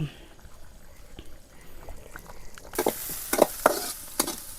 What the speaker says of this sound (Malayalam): വെളിച്ചെണ്ണ ഒഴിച്ചു കൊടുത്ത് ഇതാ ഉള്ളി വാട്ടിയെടുക്കുക